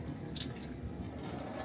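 Water drained off boiled spinach into a sink, a faint steady splashing trickle heard close up in a kitchen.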